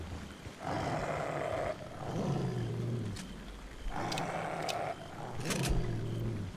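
Deep, rumbling animal growls from a video game rise and fall in two long bursts, with sharp clicks and thuds scattered among them; no voices.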